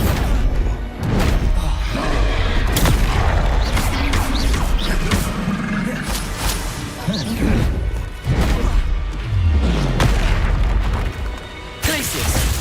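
A Bombarda explosion spell goes off amid spell combat in the video game Hogwarts Legacy: repeated loud booms and crashing impacts over dense, continuous battle noise and mechanical clatter.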